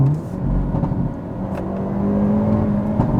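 A 2022 Hyundai Elantra N with an 8-speed wet dual-clutch transmission revs hard close by, its engine whirring steadily while sharp exhaust pops and crackles burst through, no talking.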